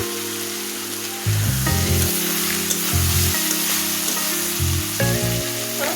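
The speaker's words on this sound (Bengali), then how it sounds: "দেখুন অলরেডি ডাটাতে আমার তেল ছেড়ে দিয়েছে, কষানোটা অনেক সুন্দর হয়ে যাচ্ছে।" Amaranth stalks sautéing in hot oil, with freshly farm-picked stalks giving off a loud close sizzle that swells in bursts as they are stirred, steady frying hiss underneath.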